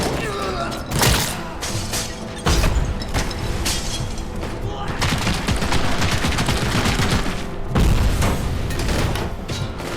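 Gunfire in the shooter Robocop Rogue City, with heavy bursts of shots, booms and thuds that go on almost without a break. A person speaks over the fighting.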